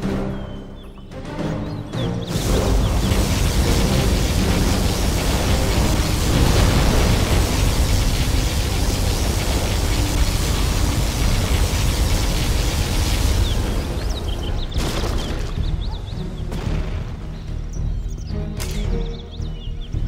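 A particle cannon firing in Command & Conquer Generals Zero Hour, a loud, dense roaring blast that swells after a couple of seconds and holds steady, thinning out toward the end with scattered sharp hits.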